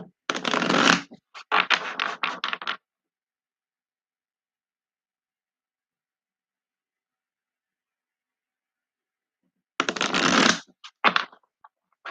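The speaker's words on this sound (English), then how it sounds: "we're going to use some angel therapy cards and healing with the angels" A deck of angel therapy cards being shuffled, heard as two quick bursts of riffling at the start, a long silence, then another burst near the end, close and clear with no talk.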